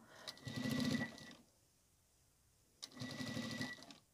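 A sewing machine stitching around a fabric tissue cover runs in two close bursts of fast, even needle chatter separated by a pause of near silence.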